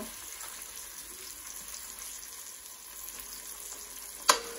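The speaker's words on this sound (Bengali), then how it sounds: "এখন আমি ডিম দিয়ে দিচ্ছি অল্প একটু জমে গেলেই তারপর আমি একটু নেড়ে ফেলে বেঞ্জে মিশিয়ে নিব" Egg cooks in a hot pan with a steady soft sizzle and occasional stirring, ending in a sharp utensil clack against the pan.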